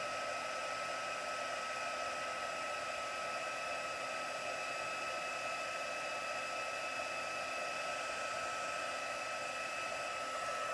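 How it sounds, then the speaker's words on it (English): A heat tool blows a steady, even whoosh over a stamped card sentiment during heat embossing, a close continuous hiss with a faint whine and no talking. "I'm going to start to move the heat tool along my sentiment."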